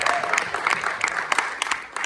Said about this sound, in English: Yes, you may clap for global iconography.